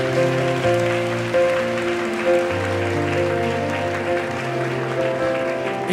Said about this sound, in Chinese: 我们再次把掌声归给神。